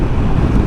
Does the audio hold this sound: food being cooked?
no